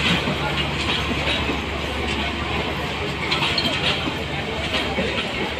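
Titas commuter train running from Akhaura to Dhaka, a steady rumbling rattle of the moving carriages with faint rhythmic clicks of wheels over track joints and a low background murmur of passengers.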